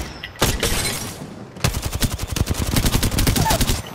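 Rapid bursts of automatic gunfire in a battle royale shooter game, loud and close, with a short burst followed by a sustained rattling volley.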